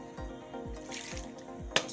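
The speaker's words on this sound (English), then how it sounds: "So I'm also going to be adding water to aid the cooking." Water trickles and drips into a pot of goat meat while Ogbono soup cooks. The sound is faint and close, a few soft splashes ending in one sharper plop, with no voices.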